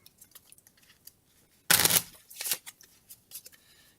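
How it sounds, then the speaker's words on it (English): Structure cards for the Clear the Decks board game get shuffled at a table: light card taps and slides, then a loud riffling burst, followed by softer squaring and sliding sounds. "So we're going to shuffle these up."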